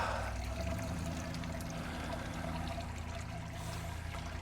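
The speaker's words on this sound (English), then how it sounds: "So it's draining out all that liquid through the bottom." Liquid draining out through the bottom of an Anvil Foundry brewing system in cold weather: a steady, low pouring and trickling flow, continuous and fairly close, with no talk.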